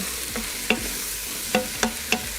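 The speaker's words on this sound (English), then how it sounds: "we're just gonna add the mushrooms and onions just right back in. And then just mix together for a little bit" Steak tossed with mushrooms and onions in an Instant Pot, a gentle sizzle under several distinct metallic spoon knocks and scrapes, close and unhurried.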